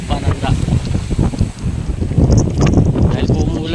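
Strong wind on a beach lot in Lubayat, Quezon buffets the microphone with a steady low rumble and roar, loud and continuous throughout, as rain begins.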